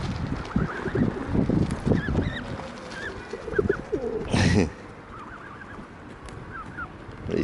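Pigeons being fed pigeon nuts coo repeatedly in a soft, rolling chorus, with a dense flock of overlapping calls, some wing flutters and one brief burst of rustling noise, fairly close.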